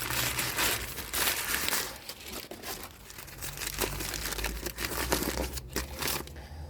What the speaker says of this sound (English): unwrap the body of hand grenade, remove the safety plug, unwrap the fuse